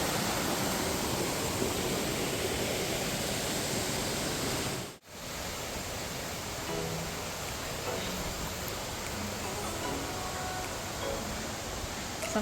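Small waterfalls on a mountain trail rush steadily as broadband water noise, constant and fairly close, with one very brief dropout partway through and no talking.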